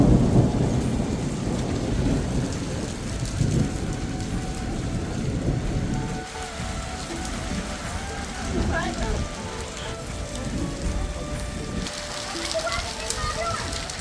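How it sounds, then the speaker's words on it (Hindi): Heavy rain pours steadily in a hilly mountain village while low thunder rumbles, a dense, continuous wash of sound throughout, with faint voices in the background. "देखते ही देखते बहुत ज्यादा बारिश होने लग गई है।"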